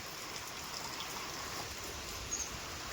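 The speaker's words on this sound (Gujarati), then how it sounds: "જો ભાઈ મારે વરસાદ આવો આવો કાંઈક વરસાદ ચાલુ થયો છે" Rain pours steadily outdoors on a farm, a soft, even hiss of drops that stays constant and fairly faint, with no voices.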